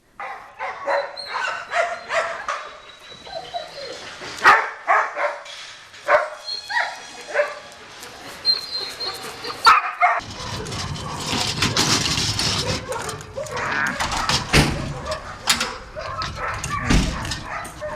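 A dog that was found with steel wire marks around its waist barks and whimpers repeatedly in short yips and whines, close by, with people talking intermittently around it.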